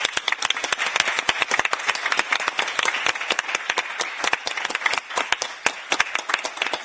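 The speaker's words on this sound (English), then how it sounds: "And so a round of applause to everybody." Audience at a panel debate on polarised regional narratives gives a round of applause, a lively, close stream of individual sharp claps continuing throughout without speech.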